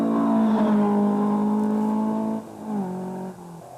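A Ford Escort historic rally car engine, at the 2003 Killarney Historics Rally, holds a loud, steady, raspy drone up close, then its pitch drops and dips briefly as the revs fall.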